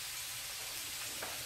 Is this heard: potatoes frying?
yes